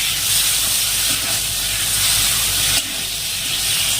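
Vegetables land in hot spiced oil with a loud, continuous sizzling hiss, a broad steady roar that dips slightly near the end with no voice over it.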